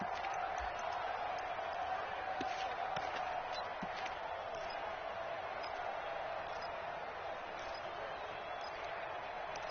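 A stadium crowd in a football video game roars and cheers continuously, steady and fairly distant, with scattered sharp thuds and a commentator's voice running over it.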